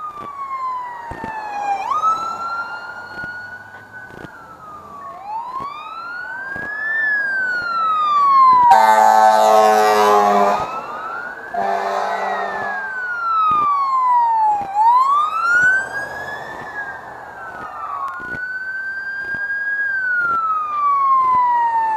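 Several fire trucks respond with sirens wailing, rising and falling tones that sweep up and down repeatedly, loud and fairly close, with a blaring air horn bursting in midway over traffic rumble.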